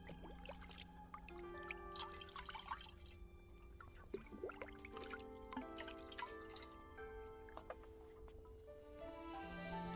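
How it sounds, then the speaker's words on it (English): Boiling savory soup poured over a golden fried snack to finish the Zhong Kui dish in the video game Black Myth, a soft continuous pouring and dripping trickle, faint, over sustained tonal music. "As the boiling, savory soup is poured over the golden snack, this Zhong Kui dish is finally complete."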